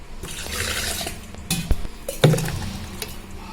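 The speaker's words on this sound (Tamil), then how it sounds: "இது கூட கொஞ்சம் தண்ணி கலந்து ஊற்றிக்கணும்." Water is poured into ground whole wheat dosa batter in a vessel, giving a short liquid splash and trickle, then a few soft clinks and stirring sounds, fairly close and quiet with no talk.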